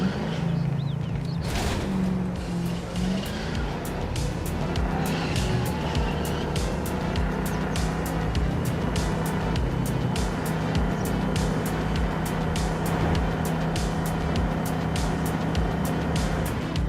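A Porsche 918 engine drones steadily in a video game, a loud, continuous, close hum with rapid faint clicks over it and no voices.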